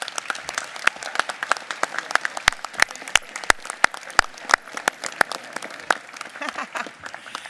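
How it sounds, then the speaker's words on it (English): Audience applause for a delegation, a crowd clapping steadily with a few loud, sharp nearby claps punching out of the patter, throughout the whole span. "please give a round of applause to your delegation"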